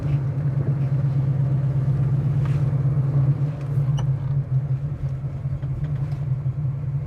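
A 1970 Chevy Nova engine idles steadily at roughly 600 to 650 rpm, a deep, even rumble that stays loud and close throughout with no talking over it.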